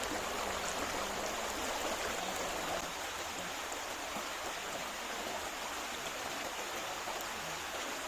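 A stream's current flows in a steady, dense wash of rushing water, continuous and moderately loud with no voices.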